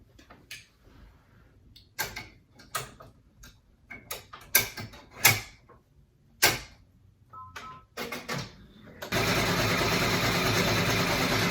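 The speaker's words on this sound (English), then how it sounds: "We're going to sew the zigzag stitch now." An embroidery machine sewing a zigzag stitch on a fabric face mask: scattered clicks and button taps first, then the machine starts, giving a steady, fast mechanical buzzing hum that continues to the end.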